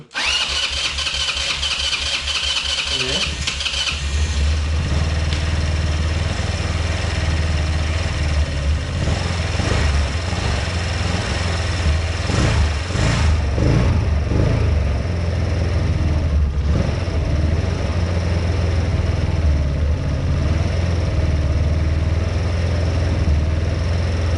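A 150cc monster quad's engine fires up on its first real start, catching with a sharp burst and then settling into a loud, steady mid-pitched running drone with slight fluctuations and brief throttle blips, close by and without talk.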